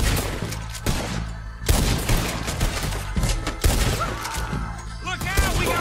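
Rapid, loud gunfire from a Lancaster rifle in Red Dead Redemption 2 during a shootout with Lemoyne Raiders, with sharp repeated shots and crashing impacts over a busy game soundscape.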